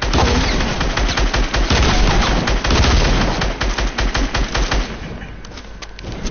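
Sustained rapid automatic gunfire in a shooting video game, loud and dense, continuing for several seconds before thinning into quicker separated bursts near the end.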